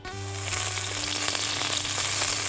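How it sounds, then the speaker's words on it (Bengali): Bay leaves and dried red chillies sizzle in hot oil in a wok, a steady, close frying hiss that holds evenly for the whole stretch with no voices over it. "কড়াইতে তেজপাতা, শুকনো লঙ্কা দিয়ে দিলাম"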